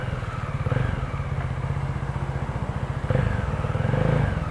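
A Voge motorcycle engine, one of the 500 R, 300 RR, 300 R or 300 AC models on a store test ride, runs with a steady rapid thumping idle that swells and rises in revs near the end, close and loud.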